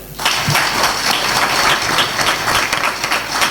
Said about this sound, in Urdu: آپ سب دوستوں سے تالیوں کی درخواست ہے